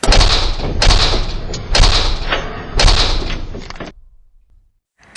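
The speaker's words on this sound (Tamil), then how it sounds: "அந்த அறையோட கதவை தான் கொண்டு வந்திருந்த பெரிய சுத்தியில் வச்சு உடைக்க ஆரம்பித்தான்" A big hammer smashing a wooden door as a sound effect: four heavy, loud crashing blows at a steady pace, then the sound dies away into silence.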